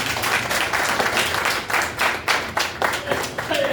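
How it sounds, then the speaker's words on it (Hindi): An audience at a Hindi poetry gathering applauds a poet, loud, close clapping from many hands in uneven rhythmic surges, with a faint voice underneath. "दादा के समान में तालियां कम न करना आप लोग।"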